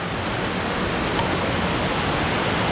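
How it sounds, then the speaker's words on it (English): A small waterfall in a canyon on Vancouver Island: a loud, constant rushing roar of falling water, broad and unbroken and close by, with no talking. "this is the little waterfall that's going to be tricky to get up"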